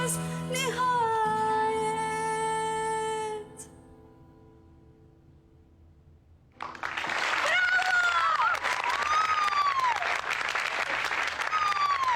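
Applause from an audience at a singing contest, a dense wash of clapping bursting in after a held, fading sung note and a short quiet gap, loud and sustained with cheering voices over it.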